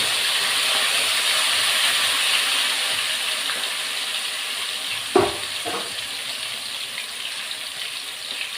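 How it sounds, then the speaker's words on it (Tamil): Cauliflower pieces deep frying in hot oil in a kadai, a steady close hiss and sizzle with a couple of sharper bursts of bubbling partway through, no talk. "டீப் ஃப்ரை பண்ண போகிறேன்"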